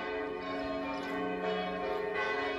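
Old church bells in Herrischried ring steadily with rich overlapping tones, a continuous resonant peal with no voices.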